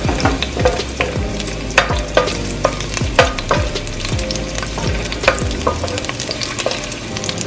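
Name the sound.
garlic frying in hot vegetable oil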